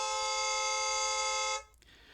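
A voice imitates a blaring car horn, holding one loud, steady nasal honk for about a second and a half before it cuts off abruptly into quiet.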